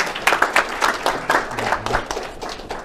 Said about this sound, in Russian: Аплодисменты Вячеславу Вячеславовичу